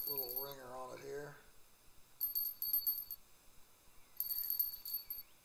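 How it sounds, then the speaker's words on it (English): A sleigh-bell-like bite alarm from a fishing rod in the Russian Fishing 4 video game jingles in two short, bright bursts over a faint background hiss after someone briefly speaks. "Sounds like a Christmas bell to me or something. It's weird, like a sleigh bell."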